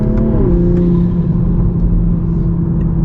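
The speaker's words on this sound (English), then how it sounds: "Hopefully you guys can hear the turbo and the pops." A 2021 Toyota Supra climbs in a canyon with a steady loud engine drone as the turbo spools, and a few faint sharp pops come from the exhaust. Heard from inside the car, with no voices.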